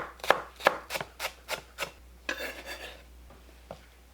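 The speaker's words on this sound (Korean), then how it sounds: "파를 잘게 썰어주세요" Green onions finely sliced with a knife on a board, producing a run of about seven evenly spaced crisp chops followed by a brief scraping sweep and one last chop, close and clear with no talking.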